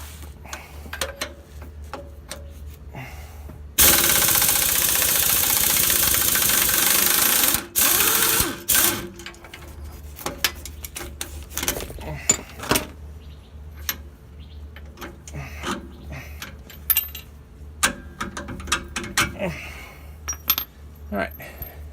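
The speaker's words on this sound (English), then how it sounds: "the jack will catch it, and I can just lower the jack." A big jack is lowered under an offroad vehicle's shock during a field repair, releasing a loud rushing hiss for about four seconds, followed by scattered metallic clinks and clatter.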